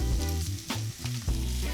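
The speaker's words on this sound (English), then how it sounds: "just give it a good flip on the pan after it starts to smoke" Carne asada steak sears in a smoking-hot pan, giving a loud, close sizzle broken by brief scrapes and shifts as the meat is flipped, with a low hum running beneath.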